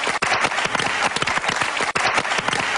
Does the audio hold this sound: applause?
yes